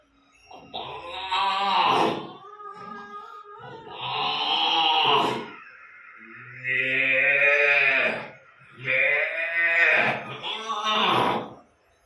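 A voice imitates cows and calves mooing, several long, drawn-out lowing calls up close, each rising and falling, separated by short breaths.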